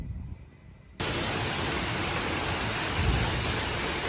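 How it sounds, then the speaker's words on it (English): Heavy rainstorm pouring down outside a house, a dense, steady roar of rain that bursts in loud and close after a brief quieter moment and keeps hammering without pause. "So another massive rain here."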